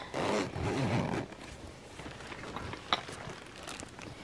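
A zipper on a fabric-lined craft case rasps open in one quick, close pull lasting about a second, followed by quieter handling sounds and a small click.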